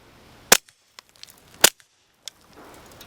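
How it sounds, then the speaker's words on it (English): A Taurus TX22 Gen2 pistol fires two sharp shots into dirt, each a crisp crack with a short tail, followed by faint handling clicks and a small pop. "I'm just gonna shoot these into the dirt. I just wanna see how quiet this actually"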